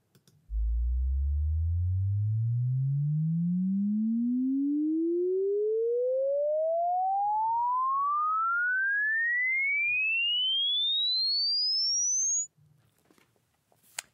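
A synth riser built in Logic Pro X, a single pure sine-like tone sweeping smoothly upward from a deep low pitch to a high whistle over about twelve seconds, loud and steady, then cutting off abruptly.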